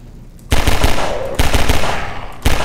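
Automatic gunfire in Half-Life 2 comes in three loud, close bursts of rapid shots, separated by short pauses, with no talking in between.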